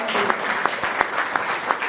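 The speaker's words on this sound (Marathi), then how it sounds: "जोरदार टाळ्या वाजवून देऊया" A church congregation claps loudly and continuously at a worship service, a dense sustained wash of applause with a few sharper individual claps standing out.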